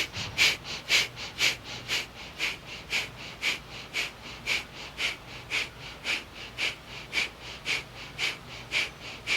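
Deep rhythmic breathing during a pranayama exercise, with about twenty quick, evenly spaced forceful breaths pulsing steadily, close and fairly loud, with no talking over them.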